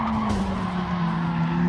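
Race car tires skid and squeal under late, heavy braking in the Gran Turismo 7 video game, with a Lamborghini Huracan at Catalunya; a steady, loud screech rides over continuous engine drone throughout.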